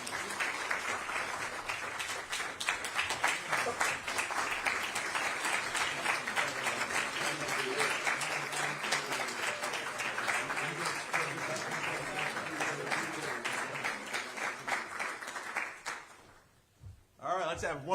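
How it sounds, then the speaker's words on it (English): An audience at a New Jersey Supreme Court Mount Laurel ruling anniversary commemoration gives sustained, dense applause that carries steadily for about sixteen seconds before fading, with a voice faintly beneath it. "let's have one more round of applause for the governor of the state of New Jersey, Phil Murphy."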